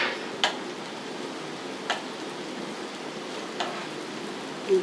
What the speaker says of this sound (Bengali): সব পিসগুলোকে এরকম লাল লাল করে ভেজে নিতে হবে।